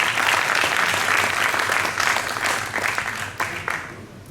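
A crowd at a gathering on South East projects gives another round of applause, dense clapping sustained at steady volume then thinning slightly toward the end.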